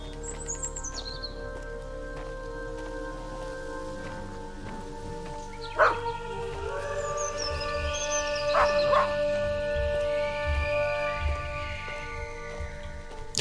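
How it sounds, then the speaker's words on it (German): A dog barks in the horror video game Maid of Sker, a few sharp barks over a murky, droning ambient backdrop with light rain-like texture. "Guck mal, da ist noch irgendwas. Ein Hund."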